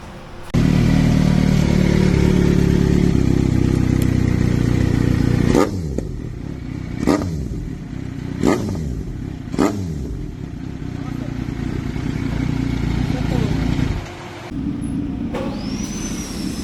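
An inline-four Kawasaki Z900 fitted with an Akrapovič exhaust idles loudly at first, then gives several sharp throttle blips that rise and fall, followed by a steadier drone and a final rev.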